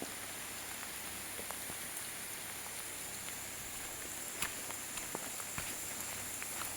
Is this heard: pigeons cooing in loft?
no